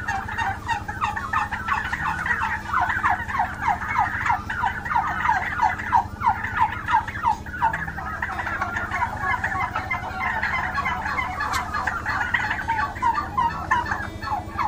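Turkeys on a village turkey farm gobble in repeated rapid bursts, many birds calling together and overlapping over a constant low background hum, with no talking.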